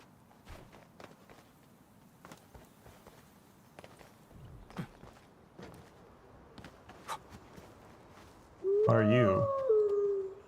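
Dogs in the game Arknights Endfield: faint padding and scattered yelps over ambient background, then a loud, sustained howl rising near the end of the clip.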